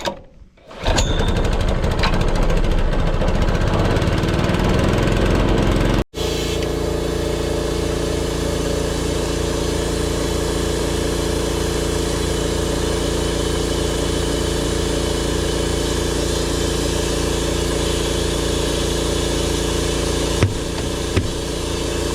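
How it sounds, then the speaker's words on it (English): A farm air compressor cranks up and then runs with a steady, loud mechanical drone and a rapid pulsing rattle, close by, continuing without a break and with no talking. "We'll crank the air compressor and see if we can get that thing back on the wheel."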